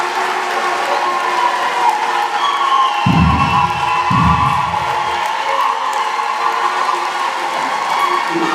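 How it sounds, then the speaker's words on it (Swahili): A church congregation claps and cheers steadily through a feast-day celebration, a dense, continuous wash of applause heard up close with a couple of low thumps near the middle. "Makofi yenu, mashangilio yenu na furaha yenu ambayo mmeionyesha hapa kanisani"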